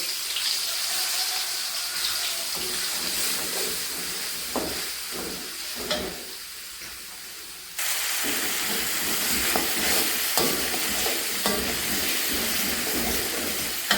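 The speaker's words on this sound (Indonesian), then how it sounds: "kita tumis dulu guys bumbunya" Bumbu halus spice paste being sautéed in a pan for tempe tahu bacem, a steady hissing sizzle with occasional spoon knocks that grows louder partway through, close and unbroken.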